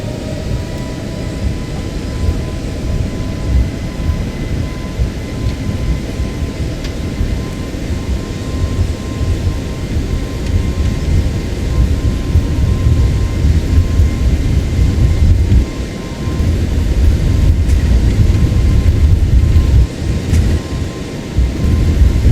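A jet airliner in a flight simulator game rolls from runway 05 and climbs away, a steady loud engine roar with deep rumble filling the whole stretch, rising slightly in the later part.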